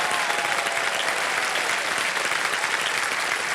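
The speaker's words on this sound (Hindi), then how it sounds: "एक बार जोरदार तालियां बज जाएं" Loud, sustained applause from a quiz-show studio audience fills the whole stretch, dense and even, with no voices above it.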